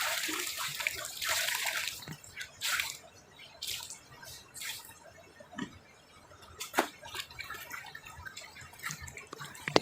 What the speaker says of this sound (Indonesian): saya tinggal bilas-bilas aja ini